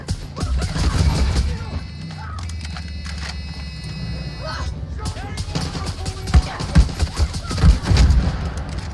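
Rapid gunfire bursts crackle through a Far Cry 6 firefight, sharp repeated shots layered with shouting voices and rumbling game ambience, the volleys intensifying toward the end.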